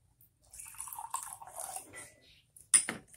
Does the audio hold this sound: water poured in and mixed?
yes